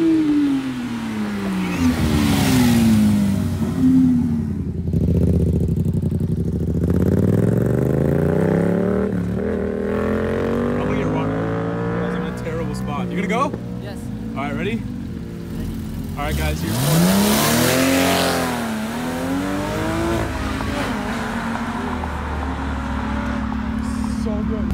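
A Porsche 911 GT3 revving loudly, engine pitch sweeping up and down in repeated surges and one sharp rise and fall as it passes close by, with people talking and shouting over it.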